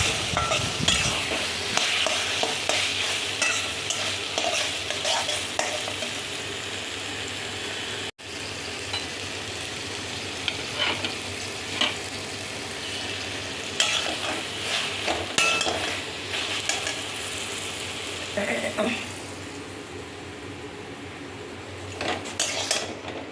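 Taro leaves and shrimp being stir-fried dry in a pan, with no water added: steady scraping and clattering of a spatula against the pan over a continuous sizzle, close and fairly loud for the whole stretch, with no talking.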